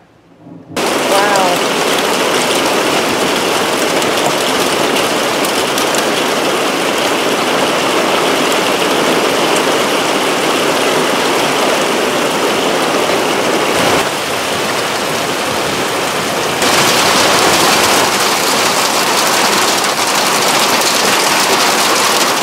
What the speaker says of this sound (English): Gorgeous freaking storm though. Listen to that thunder.